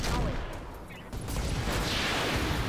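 Gunfire in the tactical shooter game Roguepoint rattles loud and dense throughout, a continuous roar of shots and echoing blasts with no clear pauses.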